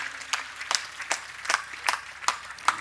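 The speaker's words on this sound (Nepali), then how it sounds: "जोरदार ताली करतल ध्वनिका साथ स्वामीजीको स्वागत" Sparse, scattered claps from an audience welcoming a swami at a grand teachers' honouring ceremony, individual sharp hand claps at roughly even intervals rather than a full ovation, fairly faint.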